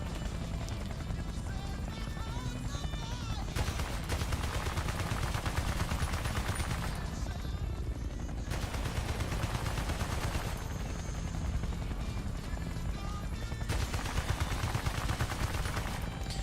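Mounted machine gun in Battlefield Bad Company 2 Vietnam, fired by a gunner riding in a helicopter, rattles in sustained dense bursts over a steady rotor and battle din, loud and continuous throughout.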